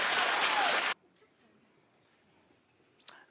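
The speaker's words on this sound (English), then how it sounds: "Clap if you care." An audience bursts into a short round of clapping that cuts off abruptly after about a second, leaving near silence broken by a faint click or rustle near the end.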